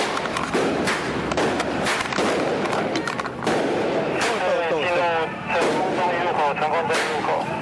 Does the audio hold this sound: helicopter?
no